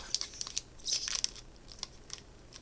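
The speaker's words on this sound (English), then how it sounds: "Oh, I messed up the tear strip, of course." A Kaldheim trading card pack's foil tear strip is ripped, giving a few short crinkly tearing bursts close to the microphone, quiet overall with brief pauses between the rips.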